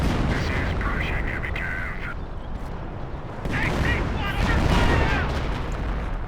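Artillery fire in the Company of Heroes strategy game during a match involving a Pershing tank, with repeated heavy blasts and crackling battle noise, while voices talk over them.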